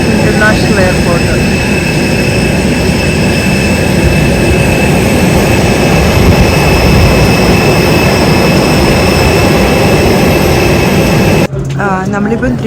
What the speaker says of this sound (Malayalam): ഇതാണ് ത്രിഭുവൻ ഇൻ്റർനാഷണൽ എയർപോർട്ട്